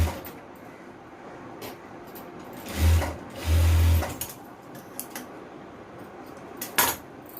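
A sewing machine stitching a frock, running in two short bursts of whirring stitches amid quiet handling clicks and rustles.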